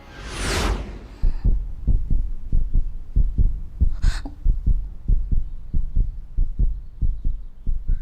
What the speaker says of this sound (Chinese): 你现在的心跳已经超过120了